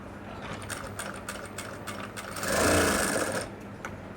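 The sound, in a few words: sewing machine stitching a folded seam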